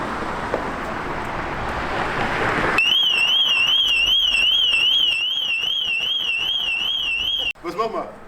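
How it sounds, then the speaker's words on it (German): A motorcycle alarm system suddenly starts wailing, a loud rising-and-falling siren tone that repeats steadily over faint traffic, then cuts off abruptly before a voice speaks. "ob dann auch die Alarmanlage angeht."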